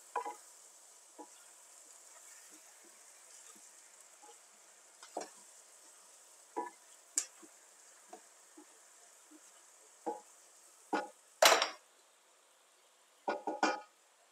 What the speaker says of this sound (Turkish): Hemen azıcık karıştıracağım. Kapağımı tekrar kapatacağım.